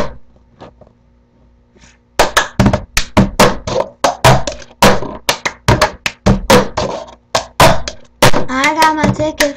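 Two cups tapped and slapped on a surface in a quick, repeating cup song rhythm, close and loud after a quiet start, with a voice singing along near the end.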